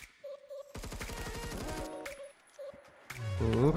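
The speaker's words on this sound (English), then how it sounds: "Sounded like he was shooting me with a shotgun" Gunfire in the shooter game Phantom Forces, taken for a shotgun: a quick run of sharp, evenly spaced shots, close and loud, with tonal game sounds before and after.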